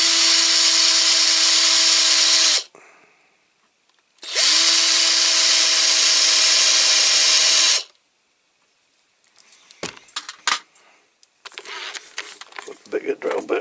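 A power drill whines steadily in two long, loud bursts separated by a short pause, followed by clattering and scraping sounds.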